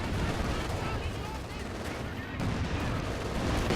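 Dense, continuous gunfire and explosions rattle through a Company of Heroes 2 battle as anti-tank guns open up on infantry, a steady loud barrage of overlapping shots with a voice talking over it.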